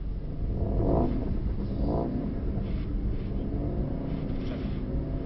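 A Mercedes-AMG GT63 Pro engine drones steadily under acceleration on a track, a dense continuous rumble with a couple of rising swells early on, heard from inside at moderate loudness.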